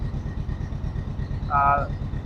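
A Ford Super Duty truck engine idles nearby with a steady low rumble throughout, and a brief tonal whine rises over it near the end.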